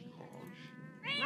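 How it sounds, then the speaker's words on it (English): Cat meowing in the game The Sims 4, a short, close, drawn-out meow ending in a louder rising cry, heard alone. "The cat is literally attacking."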